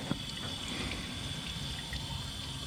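Water trickles steadily into the engine block of a 1967 Toyota Corona RT40 to rinse it, a soft continuous pouring and dribbling without pauses.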